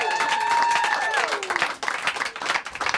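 A studio audience gives a short round of applause, a dense wash of clapping with a voice briefly over it at the start.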